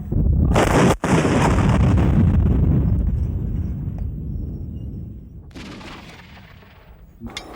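A long-range artillery gun fires with a loud, close, booming blast that rolls on and slowly fades over several seconds, followed by a fainter second rumble.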